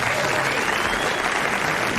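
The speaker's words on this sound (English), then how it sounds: "Give yourselves a round of applause." Studio audience applauding on a 1993 BBC Radio 1 quiz show, a steady dense clatter of many hands held at an even level for the full two seconds.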